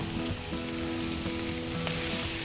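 Paprika goes into a hot pan of sizzling oil while preparing an anchovy paella, the frying hiss steady and close throughout with a few soft stirring scrapes, no voices.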